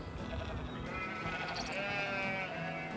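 A farm goat in a cartoon farming game bleats in a drawn-out, wavering cry over soft game background sounds, with no talking.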